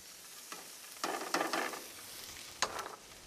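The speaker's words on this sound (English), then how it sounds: "And then we're gonna throw the onions in here." Onions hit a hot pan for a bacon asparagus omelet, giving a few bursts of sizzling and stirring scrapes that swell and fade over a few seconds, close and moderately quiet.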